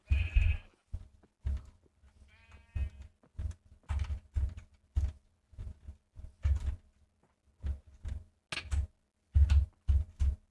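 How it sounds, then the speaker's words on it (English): Pink sheep bleat repeatedly in the Minecraft video game, short separate calls in an uneven rhythm, fairly loud and close, with faint clip-clop steps between them and no talk. "it's naturally spawning pink sheep."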